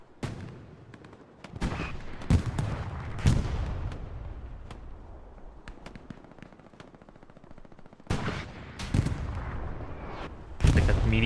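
A Panzer IV tank fires its turret gun in Hell Let Loose on the Omaha Beach map, with loud booming blasts spaced across the battle and a rattle of machine-gun fire between them.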